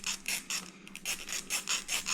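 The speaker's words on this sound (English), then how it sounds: "I like to rub these down with a file afterwards" A metal fish-hook hair clip is rubbed down with a hand file, a steady run of rasping strokes, roughly eight back-and-forth passes close up with a brief pause in the middle.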